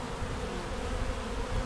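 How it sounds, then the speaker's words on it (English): A swarm of honeybees buzzes steadily and densely at close range, with bees clustered on a beekeeper's chin and body, forming a continuous unbroken drone. "A good pound or two of bees hanging off your chin is interesting."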